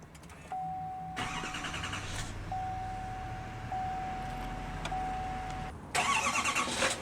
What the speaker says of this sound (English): push the button to start the engine